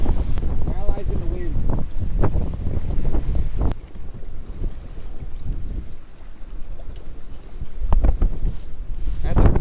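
Strong 30 mph wind buffets the microphone with a loud, continuous roar, gusting throughout, while people talk over it while walleye fishing on Green Bay.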